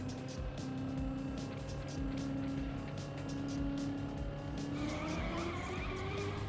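A race car in TrackMania roars continuously at high revs, its engine tone rising and shifting while tires squeal and skid through a slide, loud and sustained throughout.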